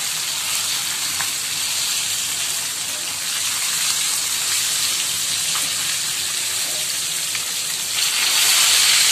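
Fish frying in hot oil in a pan while cooking khichuri, giving a steady, loud sizzling hiss throughout that swells slightly near the end, with no talking.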